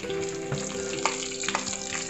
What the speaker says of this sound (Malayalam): ഉമ്മ നമ്മുടെ തലക്കറി വന്നിട്ട് ഒന്ന് താളിച്ചെടുക്കുന്നുണ്ട് കേട്ടോ